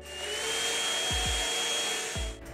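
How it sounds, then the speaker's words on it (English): A Kent Zoom cordless, hoseless 130-watt vacuum cleaner runs with a steady, close motor whine. It holds an even pitch throughout, with a few low thumps near the middle and end, and no one speaks. "This Kent Zoom vacuum cleaner is truly a magical companion as it is cordless, hoseless, and a vacuum cleaner with 130 watt powerful machine."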